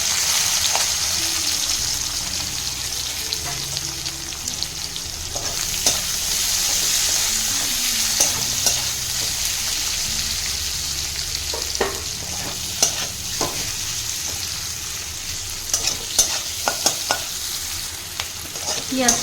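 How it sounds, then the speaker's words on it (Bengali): Green chili and chopped onion fry in hot oil with a continuous close sizzle, as a utensil stirs and scrapes the pan in intermittent clicks and taps throughout, with no talking. "তেলটা গরম হয়ে গেছে, এতে দিয়ে দিচ্ছি একটা লঙ্কা,"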